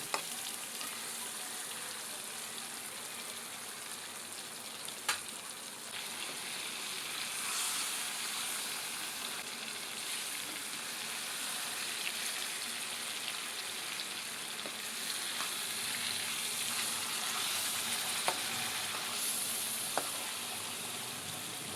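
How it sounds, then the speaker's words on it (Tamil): Ayila mackerel shallow-frying in a pan for a fish fry, a continuous close hiss of oil with occasional sharp pops and crackles over about twenty seconds, no talking. "இப்போ மீன் பார்த்திங்கன்னா நல்லா ஃப்ரை பண்ணியாச்சு"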